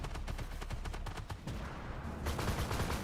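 Rapid bursts of gunfire in a tank battle video game featuring the Abrams AGDS, dense and continuous cracks and thuds throughout, loud and close, with a heavier barrage toward the end.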